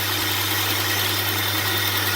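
A 2002 Hyundai Santa Fe with a no-power fault idles steadily, a smooth, even engine hum with a constant low drone and no misfire or shaking, close by and without talk.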